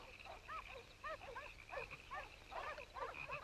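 Hunting dogs bay and yelp in quick excited bursts at night in a swamp, fairly distant and faint over a low background.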